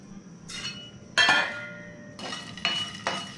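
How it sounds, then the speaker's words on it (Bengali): Whole biryani spices (black pepper, kabab chini, black cardamom, fennel, shah jeera) being dry roasted in a pan, giving a few sharp metallic clinks and scrapes in short bursts against a quiet background. "এবার ভালোভাবে এটাকে ভাজতে হবে"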